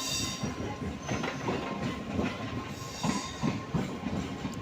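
MEMU passenger train running along the rails near Sirpur, a low continuous rolling rumble with soft, irregular clickety-clack of wheels over rail joints, heard from on board and fairly quiet.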